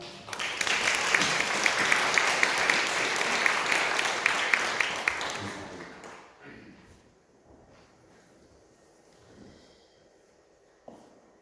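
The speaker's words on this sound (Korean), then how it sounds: "목사님 나오실 때 박수로 환영하겠습니다." A church congregation at a revival meeting claps loudly to welcome Pastor Kim Dae-yong, the applause holding strong for about five seconds before fading into quiet room noise with a few soft thumps.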